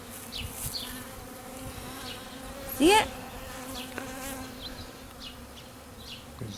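Honey bees at the hive, a steady droning buzz from many insects close by, with a brief louder whine from one passing bee and a short spoken remark.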